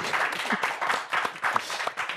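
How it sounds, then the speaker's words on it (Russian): Audience applause at an evening jazz show in Gomel, with a steady patter of clapping hands through the short stretch, moderately loud, and a faint voice now and then underneath. "Эти аплодисменты вам, Алексей."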